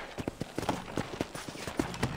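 Horse hooves trotting in the Western video game Red Dead Redemption, a steady rhythmic clip-clop of several hoof beats per second, close and fairly loud over a faint ambient bed.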